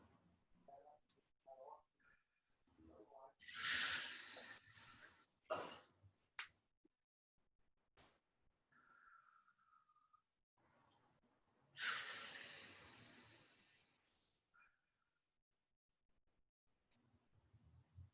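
Slow, deep breaths during a core workout, with two long audible exhales rising and falling several seconds apart amid quiet room stillness and faint small sounds.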